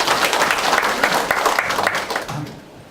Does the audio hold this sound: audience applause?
yes